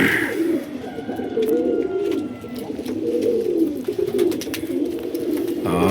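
Pet pigeons kept at home coo close by, a run of soft, rolling throaty coos repeating in waves over a quiet room background.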